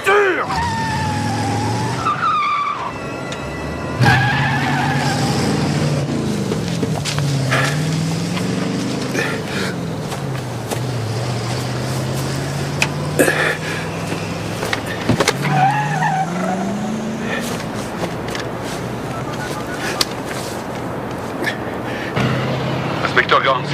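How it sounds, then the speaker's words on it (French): A car in a dramatic film scene revs and pulls away with skidding tyres, the engine droning and rising steadily under frantic shouting voices throughout. "Démarre cette voiture!"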